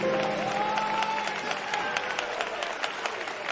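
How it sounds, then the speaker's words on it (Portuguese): Church congregation clapping hands together in praise during a service, a steady dense patter of many hands filling the room, with faint voices or singing underneath at the start. "Pode bater as palmas para Jesus."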